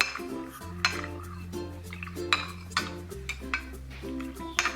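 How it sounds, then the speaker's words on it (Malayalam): A spoon stirs rose syrup into cold milk in a glass, giving repeated light clinks and chinks of metal against the rim at an irregular pace over a quiet low hum. "ഇനി ഇത് നന്നായിട്ടൊന്ന് മിക്സ് ചെയ്ത് കൊടുക്കാം."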